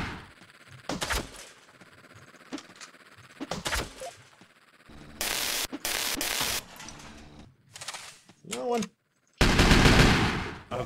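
Rapid weapon fire from the top-down shooter Teleglitch, loud bursts of gunfire broken by short gaps, with sliding-door thunks, mechanical clanks and a few sharp hits mixed in, no talking.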